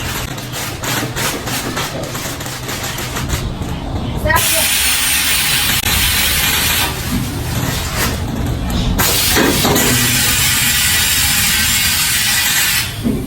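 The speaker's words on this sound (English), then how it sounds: "demonstrate our pillow packing machine" A pillow filling and packing machine runs loudly with a constant roar and bursts of hissing air, shifting in texture as it cycles; a voice briefly speaks.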